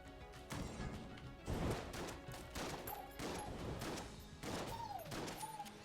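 Sword shotgun blasts in Enter the Gungeon, a run of heavy, booming shots in irregular succession, loud and close with crashing impacts and brief tonal game effects between them.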